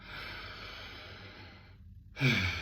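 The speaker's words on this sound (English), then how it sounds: "So a normal breath is just something like that" A single slow, relaxed breath drawn in and let out softly at close range, steady airy hiss that fades to a pause before a brief stronger exhale at the end, with no voices.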